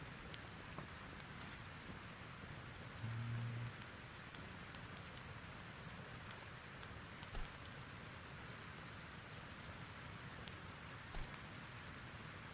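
Steady rainfall in a video game, a constant soft hiss of drops with occasional louder taps, running evenly throughout with no speech.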